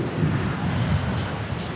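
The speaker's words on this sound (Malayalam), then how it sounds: "നല്ല ഇടിവെട്ടും നല്ല മഴയും." Heavy rain pours steadily outdoors with rumbling thunder, forming a dense, continuous roar with no voices.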